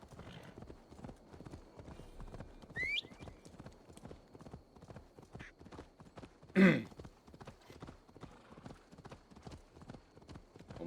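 Steady clip-clop of horse hooves trotting at an even rhythm in the video game Assassin's Creed Valhalla, with a short whinny partway through and a brief higher-pitched sound earlier.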